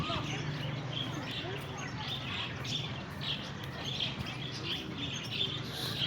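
Many birds, including budgies, chirp and tweet continuously in a park aviary, a dense busy chatter of small calls over steady background noise.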